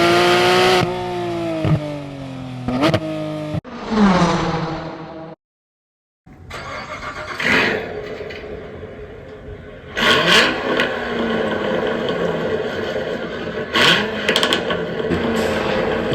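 A Corvette V8 engine revs in bursts, loud and close, with rising and falling throttle blips, a brief silent gap midway, then more sharp revs over a steady idle rumble.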